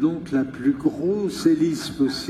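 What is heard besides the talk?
No everyday noises stand out.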